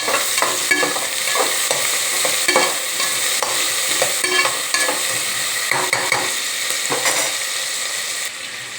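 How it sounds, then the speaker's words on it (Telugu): Tomato, carrot, potato and other vegetables frying in a pan, a continuous close sizzle with regular scraping and clattering strokes of a spoon stirring, without voices. "ఇది కొంచెం వేగాలి."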